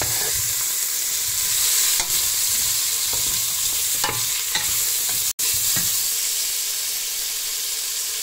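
Salted pancetta fries in oil in a hot pot, a loud, steady sizzle running throughout with occasional stirring clicks and scrapes.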